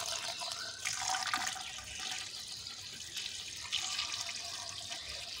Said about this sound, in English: Now we are going to fill water into this inner cylinder for approximately about 10 to 12 centimeters.